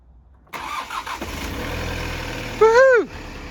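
Kia Sorento engine cranking on a newly fitted second-hand starter motor, a short whirring crank that catches into a steady close idle, with a brief rising whine near the end.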